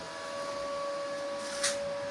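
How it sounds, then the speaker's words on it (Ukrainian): A cooling fan runs near a solar-powered metal welding setup, a steady quiet whirring with a thin, constant tonal hum and one brief soft rustle near the end, no speech. "Працює вентилятор."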